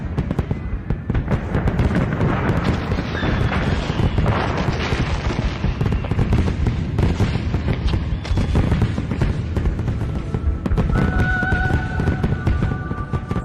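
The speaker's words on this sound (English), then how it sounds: "The grand fireworks at Zhizhiju head on the Shuangjiang River always light up the city's night sky." A grand fireworks display bursts over the Shuangjiang River in Hunan, China, a dense unbroken barrage of booms and crackles with occasional whistling rockets, loud and sustained.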